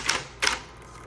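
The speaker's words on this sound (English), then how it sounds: "there's that bell, so I'm going to hit the return handle" Two sharp mechanical clacks a moment apart, close up, as the carriage return handle of a 1960s Electra 120 typewriter is pushed, then quiet.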